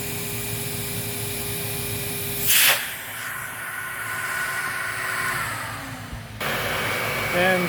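A Lindhaus Healthcare Pro vacuum cleaner draws air through its hose with a steady whine and broad hiss, a sharp rush of air bursting in early and the tone shifting later on.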